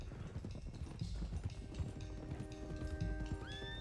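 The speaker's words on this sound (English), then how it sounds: "let's get these horses to Clemens Cove quick before we run into any more trouble." Horses in the Red Dead Redemption 2 video game gallop with rapid clip-clopping hooves and neigh, the whinnies rising over the hoofbeats near the end, all alongside game ambience and a faint musical tone.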